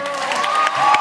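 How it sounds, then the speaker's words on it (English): Senate chamber applause after Cory Booker's long floor speech, a brief, steady wash of clapping and cheering from the gathered lawmakers. "Democrats erupt in thunderous applause"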